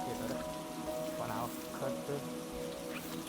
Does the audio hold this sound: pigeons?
no